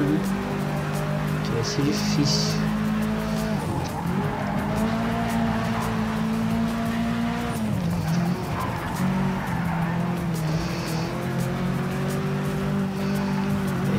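Race car engine in Project Cars 3, a steady high revving drone with gear changes and pitch sweeps, tire squeal in places, and a voice speaking briefly over it.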